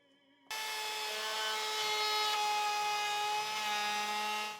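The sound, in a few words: routing roundovers on wooden table top edges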